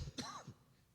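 A single brief cough or throat clearing during a church reading of a psalm, close and fairly quiet, followed by near silence.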